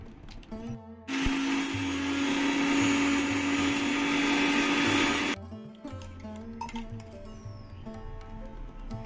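Mixer grinder blending four green chilies into paste, a loud steady whirring run of about four seconds starting abruptly and cutting off, with quieter kitchen clatter before and after.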